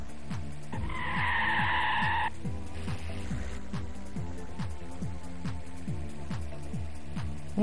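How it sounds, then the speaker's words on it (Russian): A modified VAZ-2101 Kopeyka races in the game Need for Russia, with a short burst of tire skid over a pulsing, rhythmic engine note that repeats steadily throughout. "мы едем на прокачанном ВАЗ-2101 копейка"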